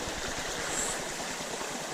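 Water rushes steadily through a dug-out gap in a beaver dam on a duck farm, a continuous close broadband flow with no voices.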